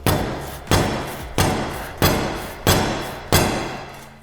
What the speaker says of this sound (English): now we have to whack that with a hammer